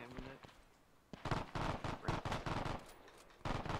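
German soldiers fire at close range in a video game, heard as a run of sharp, loud gunshots and short bursts in uneven rhythm, with a brief voice speaking near the start.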